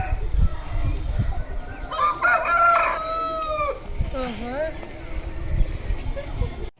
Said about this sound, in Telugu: ఇప్పుడు మనం పందానికి తీసుకెళ్తాం కోడి పుంజి.